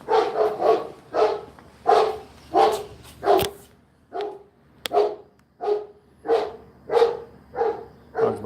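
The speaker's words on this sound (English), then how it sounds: "dog's barking so loud it's rattling" A dog barks loudly and repeatedly in a steady rhythm out on a street, deep full woofs close by, about a dozen in a row with short gaps between them and no talking.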